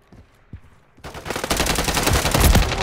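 A quiet moment with a couple of faint thumps, then loud sustained automatic gunfire in Rust erupts and keeps rattling close by.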